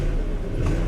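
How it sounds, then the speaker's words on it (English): A car engine idles with a steady low rumble and a slight rattle from the motor, close and continuous with no talk over it. "Sounds like the engine's rattling a little bit."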